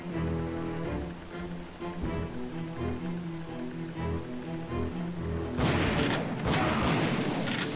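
Rocket explosion in the video game Evil Dead Fistful of Boomstick, a sudden loud broadband blast erupting over a rhythmic game music bed and rumbling on for a couple of seconds.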